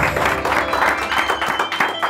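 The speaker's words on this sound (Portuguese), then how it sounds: "Palmas, realmente." A short round of applause sounds in a studio during a Brazilian talk show, with rhythmic clapping that is moderately loud. Voices and a low, pulsing background mix in with the clapping.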